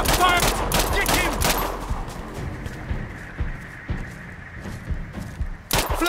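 Gunfire from a firefight in the Sniper Ghost Warrior Contracts video game: loud rapid bursts and single shots crowd the opening two seconds, then scattered thuds and a final sharp shot near the end, over steady game ambience.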